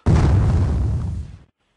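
A single loud explosion sound effect bursts in abruptly with a deep, rumbling roar that holds for over a second, then fades and cuts off into silence.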